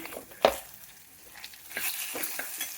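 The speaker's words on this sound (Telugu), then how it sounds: "పచ్చిమిరపకాయలు, వెల్లుల్లిపాయలు, జీలకర్ర అన్నీ వేసి కొద్దిగా వేయించుకుంటున్నానండి ముందే." Green chilies, garlic and cumin fry in a pan with a quiet, low sizzle. One sharp utensil clack near the start is followed by soft stirring scrapes that grow slightly busier toward the end, and no one speaks.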